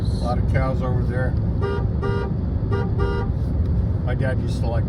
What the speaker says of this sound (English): none of them even looked when you honked